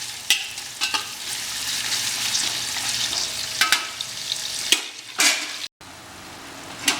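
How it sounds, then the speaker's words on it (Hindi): Mutton and minced meat frying in ghee for biryani, a loud steady sizzle broken by sharp scraping and clanking strokes of a spoon against the pot, close up with no voices. "इस घी के अंदर हमारा जो मीट और कीमा बढ़िया फ्राई हो जाएगा"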